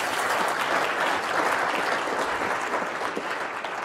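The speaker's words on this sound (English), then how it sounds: "Please give a round of applause to the Silicon Flatirons team." Sustained applause from an audience for the Silicon Flatirons team at a startup talk, dense steady clapping that fills the room for several seconds without a break.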